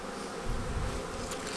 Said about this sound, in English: we're looking at about 6 frames or so of bees